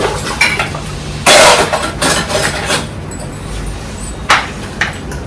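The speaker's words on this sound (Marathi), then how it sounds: "चहा नाश्त्याची भांडी घेते घासायला." Tea and breakfast dishes being washed at a kitchen sink: loud clinks and clatters of utensils and pans knocking together, with bursts of running water in between, close and without speech.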